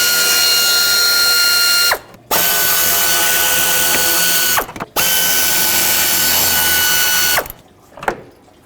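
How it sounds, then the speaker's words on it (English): Ratchet loosening 8mm bolts on the throttle body cover of a 1997-2003 Ford F-150 with the 5.4L engine, three loud continuous ratcheting runs, each about two seconds, separated by brief pauses, close up. "I need to remove this cover, 3 8mm bolts"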